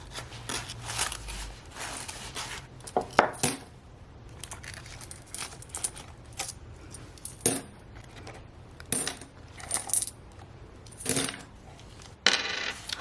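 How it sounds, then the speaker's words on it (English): Coins from a wallet clink and jingle in repeated short bursts, close up and fairly crisp, with brief quiet gaps between handfuls. "I have some coins in here."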